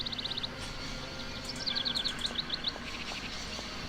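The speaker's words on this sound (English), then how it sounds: "Bird." Birds in the video game Syberia chirping in quick, high, repeated rapid-fire trills in several bursts, loud and close over a faint background hum, with no talking.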